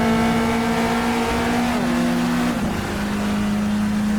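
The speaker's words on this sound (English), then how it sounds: "as we go for the overtake on the Nissan" A 1999 Fuji Le Mans 1000km race car engine holds a loud, steady drone while overtaking a Nissan, its pitch dipping briefly at a gear change before settling back into a sustained high howl.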